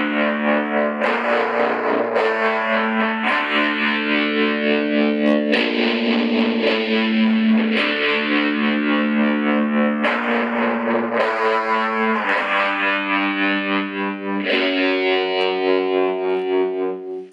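An electric guitar played through a tremolo effects pedal with the rate lowered, sounding sustained distorted chords whose volume pulses slowly and rhythmically across a long passage, close and loud with no talking.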